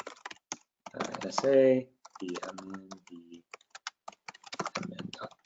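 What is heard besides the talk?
typing on a computer keyboard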